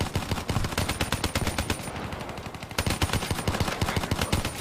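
Rapid automatic gunfire from the Black Ops 3 video game, dense bursts of shots loud and close with a brief lull midway before the firing resumes just as heavily.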